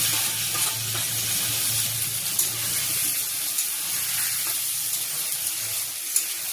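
Ginger, cumin and chilli paste fry in hot oil for a fish curry, a steady close hiss and crackle that stays even throughout, with no voices.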